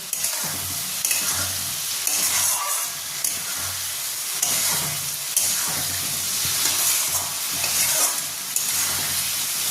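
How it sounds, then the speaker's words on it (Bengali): Fried potatoes are stirred into a pan of egg and prawn biriyani, a steady loud sizzle with scraping spoon strokes and soft clatter running continuously throughout, no voices. "আর এবার আমি এর মধ্যে ভেজে রাখা আলুগুলোকেও দিয়ে দেবো। দিয়ে আমি একটু মিক্স করে নেব।"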